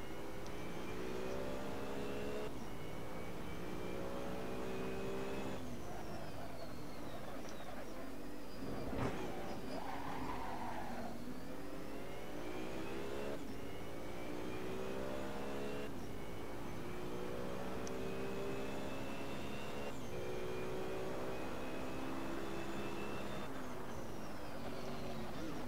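A BMW racing car's engine revs and shifts gears in Assetto Corsa, rising harmonic sweeps repeating every few seconds as it accelerates through the gears, loud and continuous.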